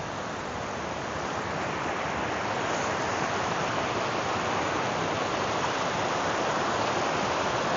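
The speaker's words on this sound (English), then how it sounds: "And here you have the river." River water rushing past mill grounds, a dense steady broadband roar heard up close with no break, like a fast stream or small weir.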